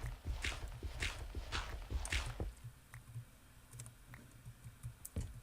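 Typing on a computer keyboard, a quick run of loud, close key clicks that gives way to sparser, softer taps.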